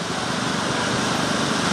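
John Deere tractor engine roaring steadily at a stoneboat tractor pull at the Goshen Fair, a loud continuous high-revving drone sustained without a break.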